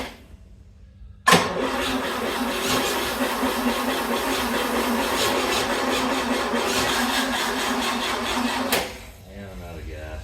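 A 1960 GMC truck engine cranks steadily for about seven seconds while being boosted, a loud continuous churning whir that starts abruptly and cuts off without catching.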